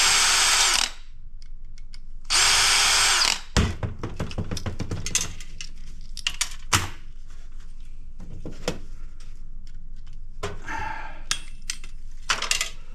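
Power tool whirring in two short bursts while taking a fan motor off an aluminum heatsink at a scrap yard, followed by metallic clanks, taps and rattles of loose parts, close and with no talk.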